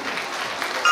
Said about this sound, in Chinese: 宝宝妈掌声鼓励。